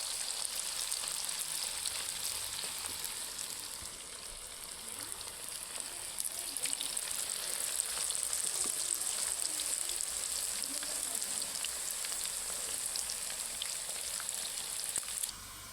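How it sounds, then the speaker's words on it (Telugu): Cauliflower pieces for gobi manchurian fry in hot oil, a steady, dense sizzle with crackling pops that runs unbroken and fairly loud from start to finish, with no talking over it. "అన్నీ ఫ్రై చేసేస్తున్నాం ఫ్రెండ్స్"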